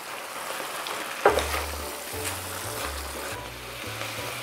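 Rice vermicelli noodles tossed with chopsticks in a stainless steel pan give a steady close sizzle and frying hiss, broken by a light clack of chopsticks on the pan and occasional soft stirring scrapes.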